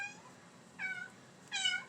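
A pet cat meows indoors, a faint short call followed by two clearer, rising meows, the last one loudest, with quiet gaps between.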